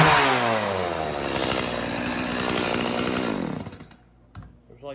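A Stihl 180C chainsaw, freshly cleaned and fitted with a new fuel filter, runs loud and close at high revs for about three and a half seconds, then drops back to a rough, sputtering idle.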